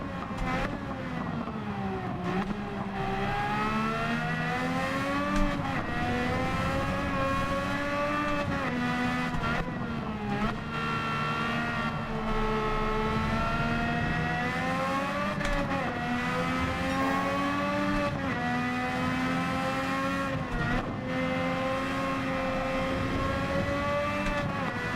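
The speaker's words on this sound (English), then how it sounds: "What car is it? This is a Honda." Honda race car engine from Gran Turismo 7, a steady loud drone that climbs and falls through gear changes and revs for the whole stretch, with no talk over it.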